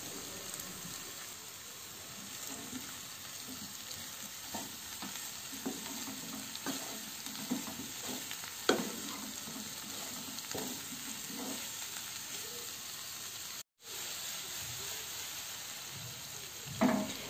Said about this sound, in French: J'ajoute le chou-fleur que j'ai laissé bien égoutter, puis je vais les faire revenir quelques instants sur feu élevé.